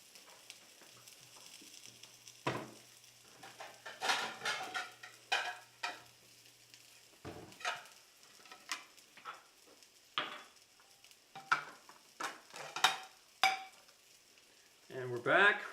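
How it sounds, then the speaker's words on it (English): Black bean burgers fry in a pan with a soft, faint sizzle underneath scattered bumps, scrapes and utensil clatter, and occasional quiet speech. "the black bean burgers are just finishing up, Okay. and we'll just take a moment and let those finish"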